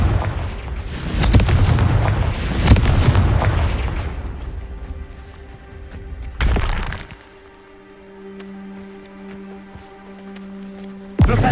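A Confringo blasting spell in Hogwarts Legacy, played on Xbox Series X, lets out loud crackling booms with shattering debris over the first few seconds, then a second sharp burst, followed by a fading tonal hum.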